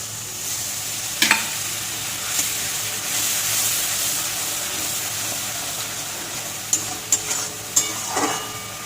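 Ginger paste and spice masala sizzle and fry in a pan with a little water for a green-banana kofta curry, a continuous close hiss broken by a few spoon scrapes and knocks.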